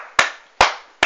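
Three sharp hand claps ring out alone at an even, unhurried pace, each a crisp close smack with a short decay.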